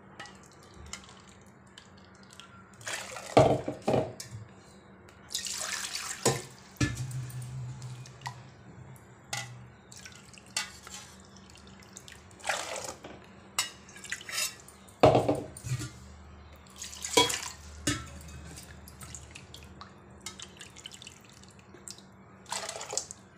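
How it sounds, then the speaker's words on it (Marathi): Water poured from a bowl into a kitchen pot, three measured bowlfuls for beetroot papad dough, heard as intermittent splashing pours separated by quiet pauses and soft clinks of utensils against the pot. "तीन वाट्या पाणी घालते मी।"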